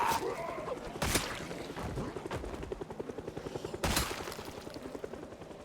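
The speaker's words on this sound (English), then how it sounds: "we hear the helicopter." Helicopter on a pass overhead: rapid rhythmic rotor thumping that swells and fades, interrupted by a few sharp loud bangs or knocks, moderately distant.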